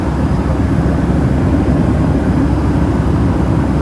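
Airplane cabin noise in flight, a loud, steady low roar of engines and airflow that holds constant without pause.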